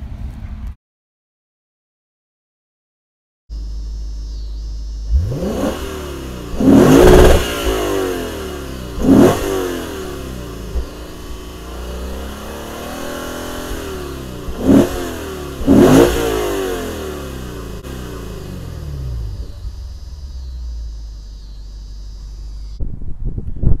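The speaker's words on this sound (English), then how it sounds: "go ahead and take a listen to that exhaust" A 2018 Lexus GS-F exhaust revs hard in four or five distinct bursts, each rising and falling back to a steady idle, heard close up with wind noise throughout and no talking.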